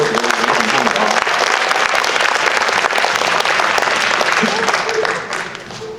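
Applause from an audience after a student research presentation on shell cement and concrete, dense continuous clapping from many hands that holds steady for about five seconds, then thins and fades near the end.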